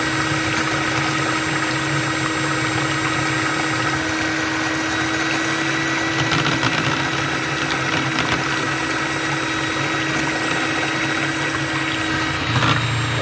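An electric mixer whirs continuously at its second speed setting while whisking mayonnaise in a bowl, a loud steady motor drone with a constant tone and a brief rattle near the end.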